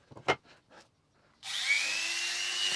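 An old Dremel rotary tool whirs up after a few brief knocks and clicks, running steadily with a high, even whine that holds to the end.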